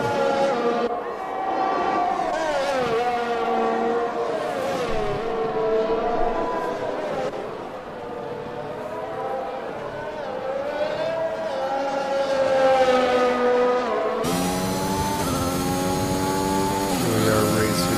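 Engines of F1 race cars in F1 2021 drone and whine in layered rising and falling pitches as a pack passes, loud and continuous, with a sharp shift near the end.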